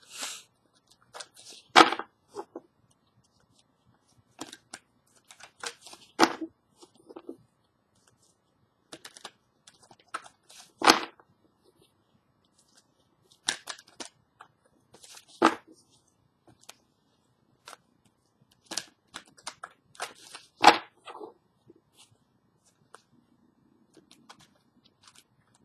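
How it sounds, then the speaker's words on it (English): Tarot cards being shuffled by hand, with short papery riffling bursts at irregular intervals, each a few seconds apart, and quiet gaps between them. No one speaks. "Excuse my silence, Lynette, while I shuffle these cards really, really well."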